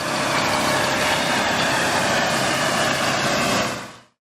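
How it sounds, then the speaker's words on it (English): A loud off-road vehicle engine runs with a steady, gritty, full-bodied roar for about four seconds, then cuts off abruptly. "Off-road vehicle,"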